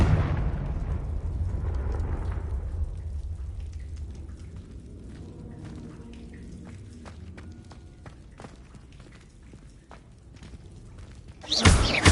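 A Confringo spell explosion in the video game Hogwarts Legacy starts with a deep rumbling boom that fades over several seconds into quieter game sounds, then a sudden loud burst cracks near the end.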